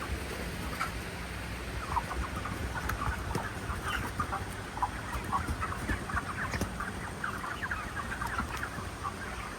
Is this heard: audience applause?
no